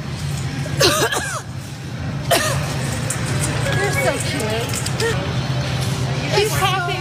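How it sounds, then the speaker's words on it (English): A few sharp coughs ring out over a noisy background of chatter and passing traffic. "She's coughing at me."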